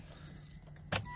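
A key turns in the ignition of a Volvo XC90 D5, light key jangling and a quiet interior hum followed by a sudden sharp click, close and brief, no talking.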